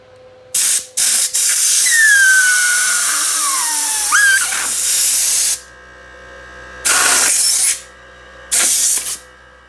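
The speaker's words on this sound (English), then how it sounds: "take compressed air and push it right in there" Compressed air blasts from a nozzle into the handlebar grip of a Ducati V4 motorcycle, a long loud hissing spray with a shifting whistle, then two more short close bursts after a pause.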